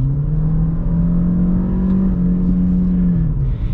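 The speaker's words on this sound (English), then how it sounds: "you could still hear the engine revving" A 2020 Ford Fusion SE engine revs in sport mode, a steady loud hum from inside the cabin that rises slightly and keeps droning after the throttle eases.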